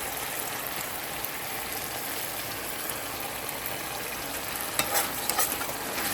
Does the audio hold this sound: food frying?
yes